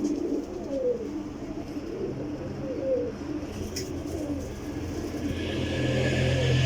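Pigeons coo softly and repeatedly in a loft setting, low burbling calls over a steady background hum with traffic-like noise rising toward the end.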